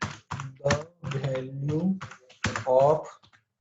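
Someone talks over fast, light clicks of a computer keyboard as he types C++ code. The keystrokes come in short bursts, close but softer than his voice.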